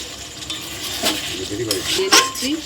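Pointed gourd and cashews cooking in ghee in a pan while a utensil stirs and scrapes, with clinks at intervals and soft sizzling between, a faint voice briefly audible.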